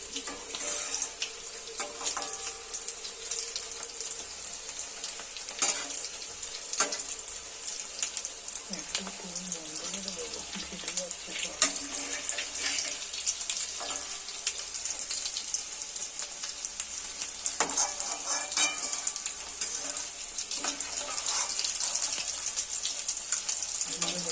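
Homemade vegetable chops being lifted out of hot frying oil, a steady, close sizzling hiss with faint clinks running the whole time.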